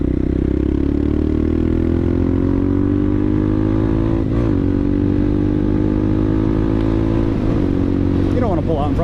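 A CSC TT250 motorcycle rides along a bumpy road, its engine droning loudly and steadily with rising and falling pitch, punctuated by clattering jolts.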